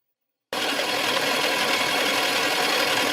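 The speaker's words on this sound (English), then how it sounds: "The invention that put the 50-year-old on the top step is this engine." A homemade solar synergy engine built in a workshop starts abruptly after half a second of silence, then runs with a loud, steady mechanical whir and buzz that holds constant to the end.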